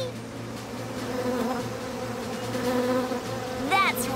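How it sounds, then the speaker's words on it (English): Cartoon bees buzz in a steady, droning swarm hum that fills the scene, rising into a quick whooshing swoop at the end. "I'll lead the bees to someplace that's safer"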